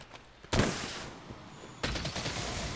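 A light bowgun firing dragon ammo in Monster Hunter World, two loud blasts a little over a second apart, each opening into a rough, rushing burst that trails off.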